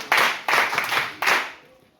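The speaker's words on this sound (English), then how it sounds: "So let's clap for them once again." A school class claps in a few short, loud bursts that stop abruptly and leave a brief fading tail.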